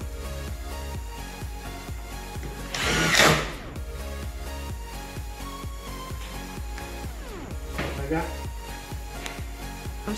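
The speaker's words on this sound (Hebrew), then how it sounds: "אני אתחיל להבריג אותו. נצמיד אותו לחלק העליון." A power screwdriver drives screws into a metal drywall profile while building a plasterboard arch, with a loud whirring burst near the start and a shorter one later over steady background music.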